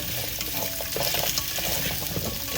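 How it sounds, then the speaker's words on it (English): Goat meat and carrots browning in a pan over medium-high heat give a continuous bright sizzle and crackle, with occasional scraping stirs, close and fairly loud. "Medium-high heat, folks. Just brown them up."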